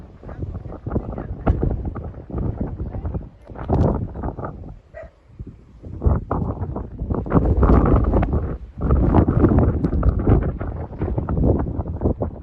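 Strong gusting wind buffets the microphone on an open Pennine Way hillside, loud rumbling bursts rising and falling continuously with brief lulls, no voices heard.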